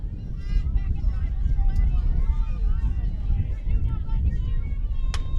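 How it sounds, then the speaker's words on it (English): Wind gusts across the microphone at an outdoor softball game, a rough buffeting rumble running throughout under scattered crowd voices and a sharp click near the end. "As the wind starts to gust up a little bit more here."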